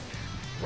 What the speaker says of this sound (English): What will this dog bite him or something?